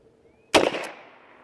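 A single sharp gunshot from a Mosin Nagant 1895 revolver, loud and close, with a brief echoing decay after the crack and near silence before it.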